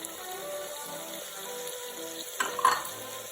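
Onion, ginger and garlic frying with chopped chillies for a pressure cooker chicken curry, a steady soft sizzle with a brief louder stir and clatter near the end.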